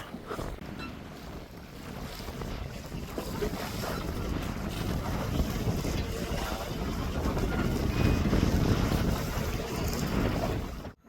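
Strong wind rushes across the open sea around a fishing boat far offshore, a loud, unbroken gusty roar with water sloshing against the hull, building toward the end before cutting off abruptly.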